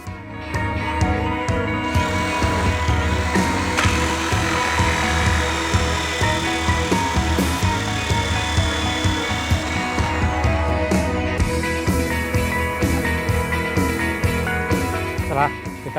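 A hole saw bores through a plastic PVC pipe cap for a hydroponic rack, giving a loud, continuous grinding whir with rhythmic rasping cuts that carries on without pause throughout.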